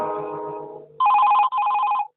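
On a Chhattisgarhi song call-in programme on Akashvani Raipur radio, music fades out and a telephone rings twice in loud, close electronic trills separated by a short gap.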